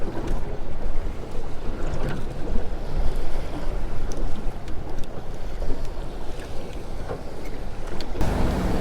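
A boat motors slowly at about five knots through choppy water on a fishing trip, giving a steady loud rush of engine, water and wind noise with no talk.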